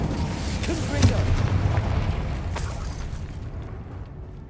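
Confringo explosion spell cast in the video game Hogwarts Legacy, a loud booming blast with a sharp crack, then a rumbling decay that fades out over a few seconds.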